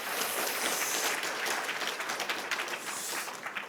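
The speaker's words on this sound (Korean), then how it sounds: "우리 하나님 앞에 박수로 영광 돌립니다." A church congregation claps together during a New Year worship service, a dense, continuous round of applause that stays full and even throughout before tapering slightly at the very end.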